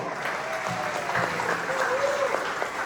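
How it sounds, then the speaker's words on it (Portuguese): Steady applause from a church congregation celebrating baptisms, a continuous wash of clapping that holds at an even level throughout, with faint voices underneath. "salve de palmas aqui, ó"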